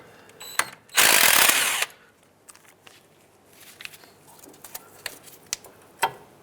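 A ratchet wrench works a 12mm bolt loose on a 2003-2009 Toyota 4Runner front wheel-bearing assembly, giving a loud burst of rapid clicking followed by scattered faint ticks and clicks close by.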